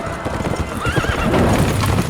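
Horses pound past at a gallop in a dramatic film battle scene, loud rapid hoofbeats with a sharp whinny rising over the thunderous clatter.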